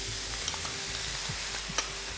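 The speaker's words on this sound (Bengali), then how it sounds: "সসগুলো যে মিশিয়ে রেখেছিলাম সেটা ঢেলে দেবো" Mixed sauces pour into a hot pan with spring onion, giving a steady low sizzle and faint stirring scrapes under a soft, even wash of frying noise, with a couple of brief clicks.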